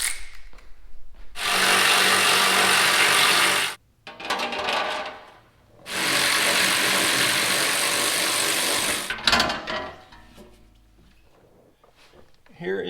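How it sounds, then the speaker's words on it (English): A skid plate is being removed from a 3rd-gen Toyota 4Runner with power tools: two long, loud, steady whirring bursts from a nearby tool, separated by short clatters and handling noises, then quieter rattling. "I'm going to start by getting the skid plate off."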